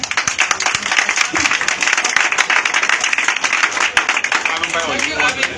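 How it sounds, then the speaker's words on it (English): A crowd at a political convention applauds steadily and loudly, dense clapping filling the space, with voices and cheers mixed in underneath. "Clap for yourselves"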